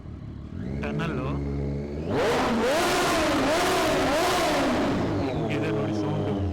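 A Triumph Daytona 675 sport bike with an SC Project slip-on exhaust idles, then is revved hard into a loud, rising and falling snarl held for several seconds, close by and heard alone.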